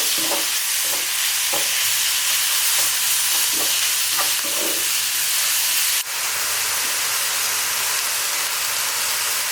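Seasoned turkey, rubbed with salt, pepper, ginger and garlic powder, sizzling in a pan with onion: a steady close frying hiss broken by a few scraping stirs near the start.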